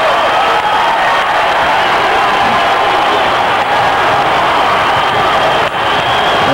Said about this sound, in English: And this is as loud as this crowd's been all season.